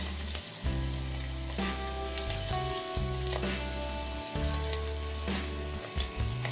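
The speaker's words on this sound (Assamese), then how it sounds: "এয়া তেল গৰম হৈ যোৱাৰ পিছত মই ৰুকি থোৱা পিঁয়াজখিনি দিছোঁ।" Chopped onions frying in hot mustard oil, a loud continuous sizzle and crackle with occasional clinks and stirring scrapes, close up and without talk.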